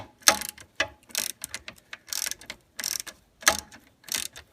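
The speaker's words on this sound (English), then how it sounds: "So this is a 10mm socket that we're using." A ratchet wrench with a 10mm socket clicks in quick bursts while loosening a nut on the alternator-to-battery power cable, with short pauses between the close, crisp runs of pawl clicks.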